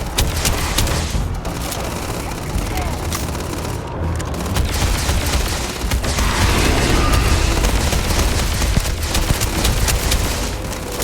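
Heavy weapon fire in Starfield, aimed at a Terrormorph attacking New Atlantis: dense, loud, continuous booming blasts and rumble that go on unbroken with no talk.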